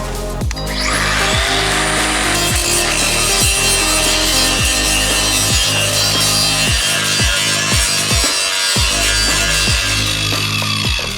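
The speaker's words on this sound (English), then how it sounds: "We grind off the spot weld there." An angle grinder works continuously on a spot weld on a metal car bracket while fitting K.I.T.T. fog lights, a loud, steady whine with a rapid regular chatter of pulses running underneath throughout.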